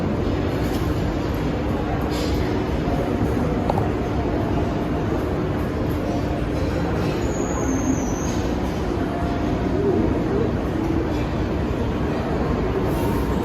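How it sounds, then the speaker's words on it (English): A model train runs on a layout in a Sydney shop window, giving a steady, continuous rolling rumble with a brief high wheel squeal partway through. "I'll show you this little video of the model train setup they had in the window"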